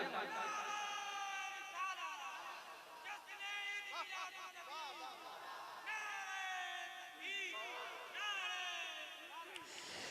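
A large crowd at a religious rally in a Darul Uloom setting loudly chanting the Takbir slogan, massed voices rising in repeated rhythmic waves of shouting that fill the whole stretch.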